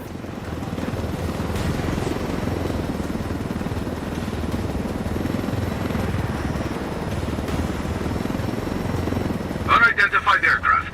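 A helicopter in the video game Ghost Recon Wildlands gives a steady, loud rotor and engine roar that continues throughout, and a voice speaks over it at the end.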